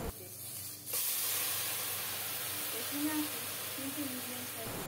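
Whole cumin and cinnamon frying in hot oil while being stirred for a Bengali egg and potato curry, a steady broad hiss and sizzle that swells after the first second, with faint scraping underneath.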